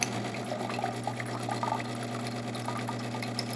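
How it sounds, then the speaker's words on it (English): Hot water runs from a Jura Impressa Z7 coffee machine in a steady, unbroken stream over a constant low machine hum, close by and fairly quiet. "Hot water."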